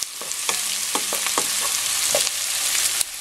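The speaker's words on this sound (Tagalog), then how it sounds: "kailangan medyo maluto lang ng konti yung sibuyas" Onions frying in a pan for pork and rib pochero, a continuous hiss of sizzling with several short stirring clatters and scrapes spread across it.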